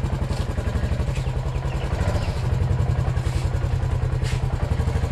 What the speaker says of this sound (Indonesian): Eh Bim, kita naik motor Gim,